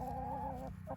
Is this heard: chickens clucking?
yes